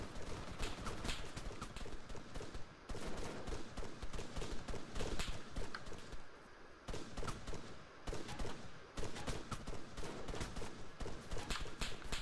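Dense, continuous gunfire from an Arma III firefight, with rapid overlapping bursts and sharp single shots cracking throughout, briefly easing around the three- and seven-second marks before resuming at full intensity.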